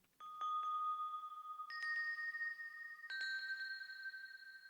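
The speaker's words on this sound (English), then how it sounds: "Then pitched it so each bell has its own tone." Three pitched Japanese bell tones, used as storm bells, ring one after another, each at its own higher pitch. Every strike is clear and close, with a bright attack and a long, sustained ring that overlaps the next.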